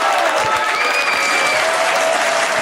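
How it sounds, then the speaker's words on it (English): Loud, dense applause from a radio show's audience, a thick, close roar of clapping that stays full and even through the whole stretch. "We let the applause die out. The people liked it."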